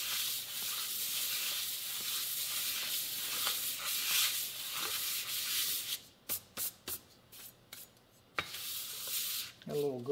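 Abrasive paper rubs across an engine cylinder head to true the surface flat, a steady, close scraping hiss for several seconds, then broken into short separate strokes near the end.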